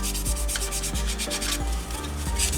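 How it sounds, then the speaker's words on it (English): Steady, close sanding strokes rub across the plastic body of a 1/24 scale Audi R8 GT3 model car kit, a continuous gritty scratch with soft rhythmic pulses and no speech. "I roughly sand the whole body"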